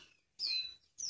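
Female white-rumped shama (murai batu) giving two short, high chirps about half a second apart, fairly faint and close, with no talk.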